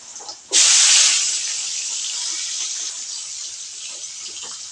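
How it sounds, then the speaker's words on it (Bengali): Potato pieces drop into hot oil with salt and turmeric, setting off a sudden loud hiss that settles into a steady frying sizzle. "এই তেলের মাঝে আলুর টুকরোগুলো ভেজে নেব লবণ এবং হলুদ দিয়ে"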